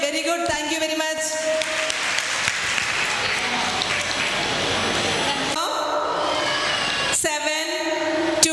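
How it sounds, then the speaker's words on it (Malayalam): Audience applause at a school annual day celebration, a sustained burst of clapping from a crowd that fades briefly and picks up again, with a presenter's voice speaking over it. "Once more please clap hands for your children."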